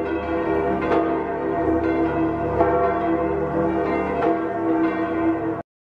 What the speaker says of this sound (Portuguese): E na alegria da igreja, nós temos os sinos.